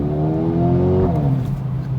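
A Mercedes-AMG A35 engine hums steadily and then its pitch drops as the revs fall away, loud and close with no talking.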